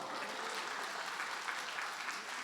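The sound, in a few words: church congregation applause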